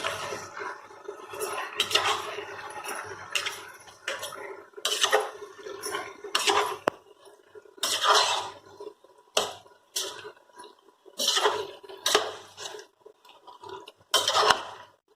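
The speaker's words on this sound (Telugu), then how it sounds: "బాగా చికెన్ కలిసేలా ఈ మిశ్రమం అంతా కలిసేలా తిప్పుకోవాలండి" A metal spoon scrapes and clinks in a pan again and again in uneven bursts while chicken fry masala is stirred and tossed, Rayalaseema style, close to the mic with no talking.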